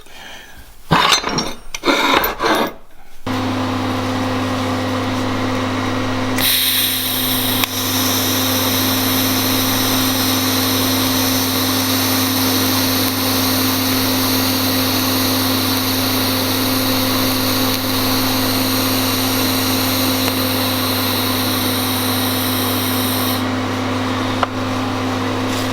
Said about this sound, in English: it's always important when you're going to weld something to get rid of that mill scale